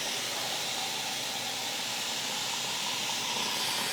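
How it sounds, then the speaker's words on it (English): Steady broadband rush of tap water filling a soup pot, continuous and fairly loud for the whole stretch with no talking over it. "So you can come with me as I fill the pot."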